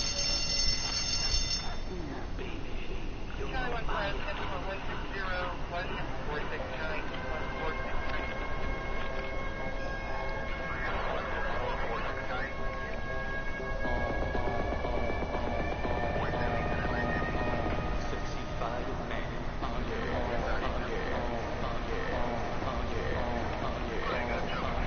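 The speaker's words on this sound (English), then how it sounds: "let y'all hear the siren from the fire truck" Fire truck siren in the video game Watch Dogs 2, an odd, unusual wail with steady rising and falling tones sounding continuously over busy city and game noise for the whole stretch.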